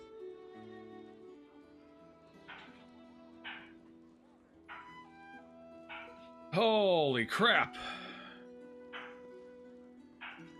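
Two dogs play through a fence with short yips, whimpers and barks scattered across the clip. A louder burst of excited yelping and barking comes in the middle, steady background tones run underneath, and a person briefly speaks.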